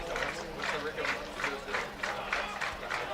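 A large crowd at a college football game, Salve Regina against Montclair, heard as a broad pulsing roar of cheering and chatter with a rhythmic swell, steady and distant under a commentator's voice.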